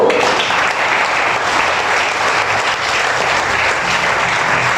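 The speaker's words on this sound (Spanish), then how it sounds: "un aplauso de alabanza a Dios" A congregation applauding in praise during a Spanish-language church service, loud continuous clapping from a full room that stays level for nearly five seconds with no voices on top.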